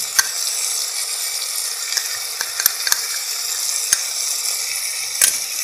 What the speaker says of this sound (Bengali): এটা আরও কিছুক্ষণ ভাজতে হবে